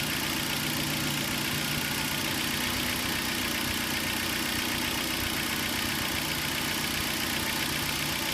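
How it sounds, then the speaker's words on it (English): A car engine idling under the hood during a fuel trim and oxygen sensor test, a loud steady drone that holds constant throughout. "as we fuel that, you'll hear the engine die down"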